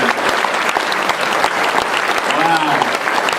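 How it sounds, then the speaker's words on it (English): An audience at a variety show applauds the winners from Mayberry, Iowa, with a dense, loud, continuous clapping that fills the room throughout, and a voice is faintly heard beneath it. "Let's give another round of applause."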